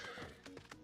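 A horse in a Final Fantasy video game gives a short, quiet whinny, a brief single call with no talking over it.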